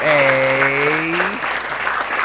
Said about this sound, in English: Clap hands for you, Francie